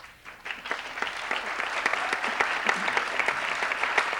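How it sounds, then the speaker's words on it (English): An audience at a panel discussion on childcare bursts into applause that swells quickly and holds dense and steady, a broad wash of many hands clapping. "The applause is great, but I'm going to ask you to hold it"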